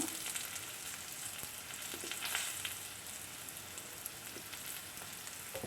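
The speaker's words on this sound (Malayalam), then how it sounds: "ഇഞ്ചിയും വെളുത്തുള്ളിയൊക്കെ നന്നായിട്ട് തന്നെ മൂത്ത് വന്നിട്ടുണ്ട് കേട്ടോ" Ginger and garlic frying in a pan for a sardine pickle, a steady close crackling sizzle with soft hissing throughout and no talk.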